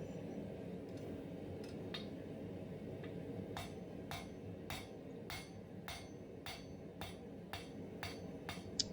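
A blacksmith's hammer strikes a hot steel taper on an anvil in a steady series of sharp ringing blows, evenly spaced and fairly close over a low background hum.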